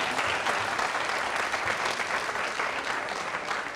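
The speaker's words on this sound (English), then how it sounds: "So let's give him a round of applause for that" An audience at a Harlingen High School signing day ceremony gives a round of applause for an athlete, a soft, even wash of many hands clapping at a moderate distance without pause.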